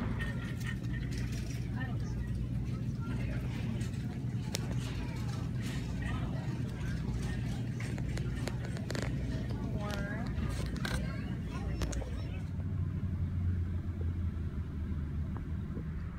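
Steady low rumble and road noise inside a moving car, constant throughout, with occasional clicks and small knocks over the hum.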